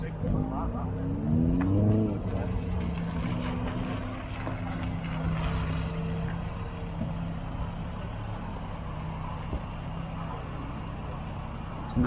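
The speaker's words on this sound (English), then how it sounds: "There's cabriolets driving off." Cabriolet cars pull away at a Vauxhall Astra gathering near Ellesmere Port, with a low engine rumble and a brief rev early on. The sound is moderately close and continues under background voices.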